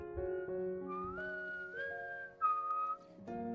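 Whistling from an Indonesian-narrated film about a group of nerds facing gangsters over a lottery, a single person whistling a wavering, rising melody over soft background music, clear and fairly close, with no talking.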